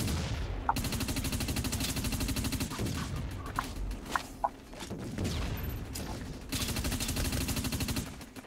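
Rapid automatic gunfire and scattered single shots in the PS3 shooter Dust 514, dense bursts loud and continuous with brief lulls, alone without speech.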